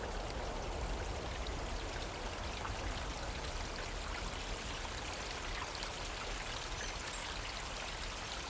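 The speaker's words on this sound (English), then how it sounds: "So we're back at the river now, on the bridge" A river rushing beneath a bridge in the South Downs on a summer day, producing a dense, continuous hiss of flowing water, steady and close with no pauses or voices.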